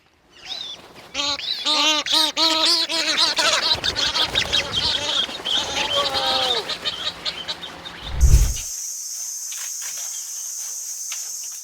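Freed goslings give a dense chorus of high, rising peeps and honking calls, loud and close, continuing for several seconds before a thump and a shift to a high, steady insect-like hiss.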